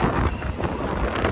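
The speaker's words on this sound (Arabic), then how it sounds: "هواء كلش عالي" Strong cold wind gusting along Oxford Street in London on a busy Saturday, a steady rough rumble of buffeting with faint street murmur beneath, no clear speech.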